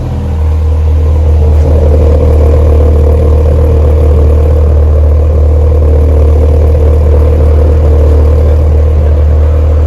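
A Ford Lightning or Dodge Ram SRT-10 pickup truck idles close by with a steady, loud, deep rumble that holds evenly throughout, with no talking over it.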